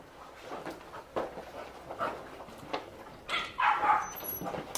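A dog at an adoption parade, an American Staffordshire Terrier mix, gives several short barks and whimpers at moderate distance, spread across the clip amid crowd noise with a louder burst near the end.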